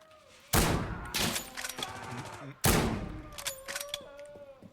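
Gunfire in the video game Insurgency: Sandstorm comes in two loud, sharp bursts of rapid shots about two seconds apart, each trailing off into scattered echoing reports.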